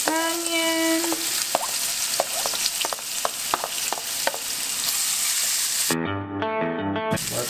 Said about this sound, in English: Gotta always let your onion cook a little bit extra.